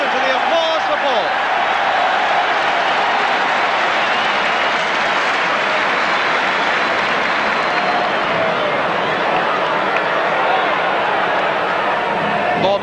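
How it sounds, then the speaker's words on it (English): Sustained crowd applause at a 1974/75 football match as Alan Ball leaves the pitch injured with chest pain, a dense, steady roar of clapping filling the whole stretch, with commentary voices running beneath it. "just listen to the applause for Ball"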